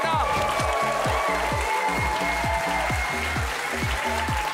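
A German TV comedy roast show audience breaks into loud, continuous applause and cheering as a guest is welcomed on stage, with music and voices mixed in throughout.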